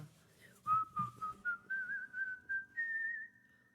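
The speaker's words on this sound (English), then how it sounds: "That whistling with a little echo there." A person whistles a lilting melody alone, the notes rising gradually in pitch in short connected phrases with a slight echo around them.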